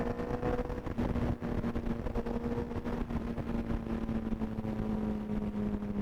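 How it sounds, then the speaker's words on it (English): A loud, steady superbike engine roar at high revs through a full Brox aftermarket exhaust system, droning continuously with a deep exhaust rumble and a slight pitch rise and fall. "That has a full system Brox exhaust."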